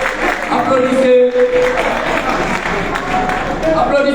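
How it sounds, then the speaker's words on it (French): Crowd applauding at an outdoor rally in Paris for Mali, steady dense clapping and cheering mixed with voices and a public address speaker throughout. "Applaudissez Togo s'il vous plaît."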